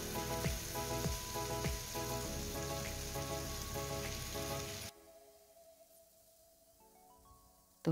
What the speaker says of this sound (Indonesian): Tumis-tumis hingga ayamnya matang dan kuning kecoklatan